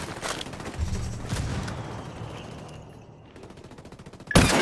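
Gunfire in the video game Ghost Recon Wildlands rattles in rapid automatic bursts, close and loud, easing off midway before a sharp, heavy shot cracks out near the end.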